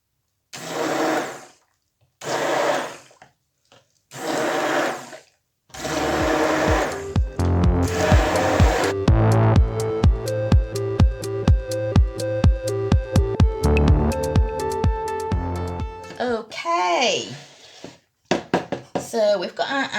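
An electric blender churns a batch of dog soap with nettle, oats and kaolin clay, running loud and steady with pulsing changes in pitch, after several bursts of speech at the start.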